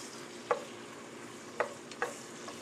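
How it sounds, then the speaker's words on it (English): Vegetables sautéing in a pan for homemade gravy make a faint, even sizzle, with three or four soft clinks of a stirring utensil spaced across a couple of seconds. "Basically, you're sauteing the vegetables in here."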